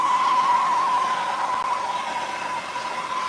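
A torch roars steadily and loudly at close range during chainsaw carving work, a constant rushing hiss with no breaks, with no talking.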